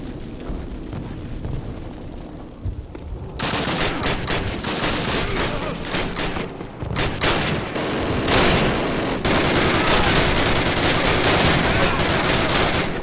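Call of Duty 1 covering fire, a quieter opening giving way to loud sustained gunfire with rattling bursts and explosive booms that build and hold to the end.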